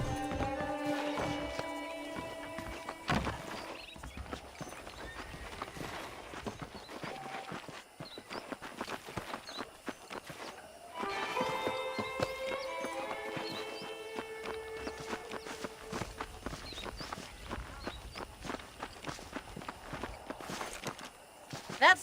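Horses walk with clip-clopping hooves in the Red Dead Redemption video game, a steady uneven patter of hoofbeats throughout, with a voice speaking over parts of it.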